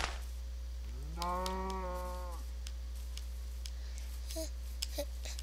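A single cow moos once in a video game, a clear drawn-out low call standing alone over a steady background hum, followed by a couple of faint clicks.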